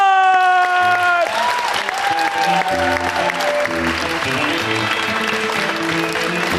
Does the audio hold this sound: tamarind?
no